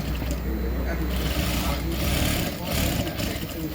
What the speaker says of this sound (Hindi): इसकी नीचे से सिलाई जो वर्क नहीं फूटे उसी पे सिलाई मारेंगे जो पहले सिलाई मारी थी हमने